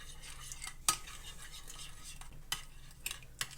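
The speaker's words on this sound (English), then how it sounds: "Make sure it's all stirred in there." A spoon stirs green bean casserole mixture in a bowl, soft scraping with several sharp metallic clinks at irregular intervals, quiet and close.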